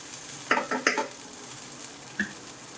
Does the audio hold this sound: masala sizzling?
yes